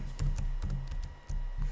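Typing on a computer keyboard while filling in a business name, a quick run of close key clicks in short clusters.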